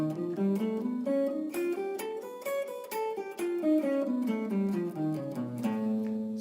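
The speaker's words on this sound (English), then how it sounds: "So it's literally just whole tones all the way up the scale." A blues guitar plays a whole-tone scale, running up and back down in clear, evenly spaced single notes with a sustained tone, close and alone, ending on a held note.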